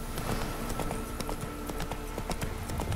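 Hooves of the horse Roach clip-clopping in The Witcher 3: Wild Hunt, a quick, steady run of close hoof beats over a low ambient background.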